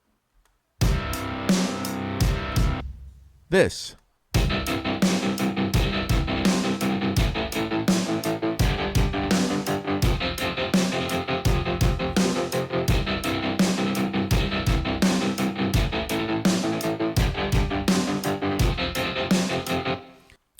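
Strummed guitar chords from a song chopped by a step-sequencer tremolo into a fast, rhythmic on-off pulse, a brief pause near the start, then a steady choppy tremolo to the end.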